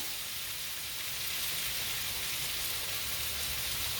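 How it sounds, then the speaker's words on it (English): Gentle, continuous bubbling and hissing of a pot of rice at a boil, quiet and even throughout. "so our rice is boiling"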